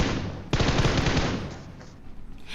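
Loud, rapid automatic gunfire in PUBG played on a 6th-generation iPad, bursting in suddenly and rattling on for about a second before trailing off into quieter game noise.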